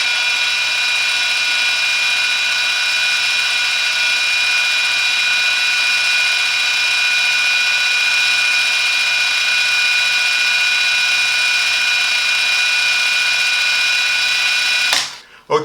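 Parkside 20V cordless impact wrench running in Eco mode, first gear, giving a steady, high-pitched motor whine that holds evenly for about fifteen seconds before cutting off with a short clunk.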